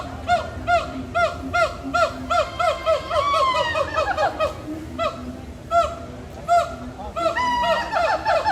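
Geese along an Animal Kingdom trail honk in a steady run of loud, close calls, repeating several times a second with a few short pauses.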